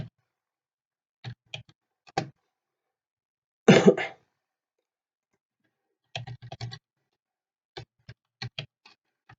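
Short bursts of clicking on a computer keyboard while entering a search, coming in scattered clusters with pauses between them, plus one louder, denser burst near the middle; close and fairly quiet, with no talking.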